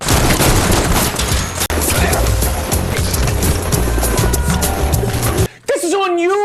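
Gunfire in the video game Citizen Vigilante, a loud sustained volley of rapid shots and bursts over a busy game mix, cutting off abruptly near the end.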